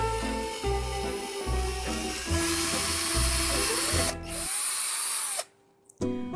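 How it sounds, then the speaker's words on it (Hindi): A power drill fitted with a thin drill bit boring a hole, whirring steadily with pulsing motor surges up close, then winding down briefly before a short restart at the end. "हम एक पतले ड्रिल बिट को यूज करेंगे and let's start making the whole."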